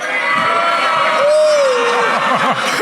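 A live crowd at an All-Star Weekend show in San Francisco lets out a loud, sustained jeer, a broad wash of voices with one drawn-out rising and falling call standing out in the middle.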